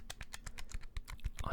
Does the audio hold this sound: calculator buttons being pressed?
yes